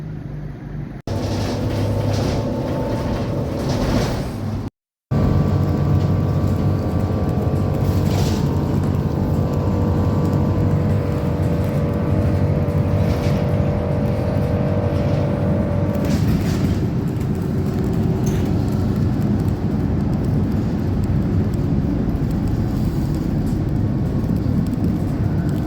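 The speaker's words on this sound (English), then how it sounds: "The bus has finally arrived here at that time." A small bus arrives at Bar Hill bus station, its engine a steady low rumble with droning tonal hum, briefly cut off by a moment of silence early on, then continuing loud and close for the rest.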